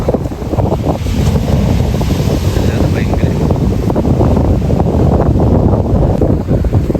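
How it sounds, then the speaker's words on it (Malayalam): Strong wind buffeting the microphone in loud, continuous gusts at a sunny beach in Malappuram, Kerala, with a voice speaking briefly under the roar. "നല്ല കാറ്റുണ്ട്, കാറ്റോടെ നമുക്ക് ചൂടറിയില്ല."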